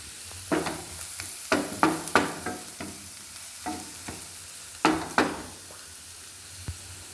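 Prawns frying in a pan, a soft background sizzle broken by repeated scraping and stirring clatters from a spatula, close and fairly quiet, with no talk.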